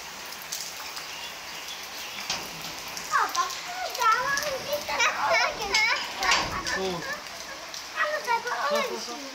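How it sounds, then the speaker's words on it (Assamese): Rain patters steadily in the background while children's voices chatter and call out nearby, frequently rising over the falling rain. "বৰষুণ দি আছে গাইস এতিয়া আমি আৰু গাড়ীত বহিম"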